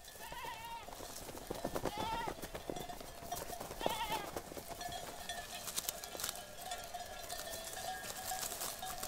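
Goats bleat in repeated wavering calls while grazing in Sicily, several cries coming in quick succession at moderate distance over a noisy outdoor background.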